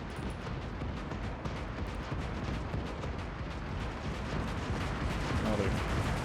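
Bombing in the Gates of Hell war game comes through as a dense, continuous rumble of distant explosions and artillery-like blasts, steady and loud with no clear gaps between impacts.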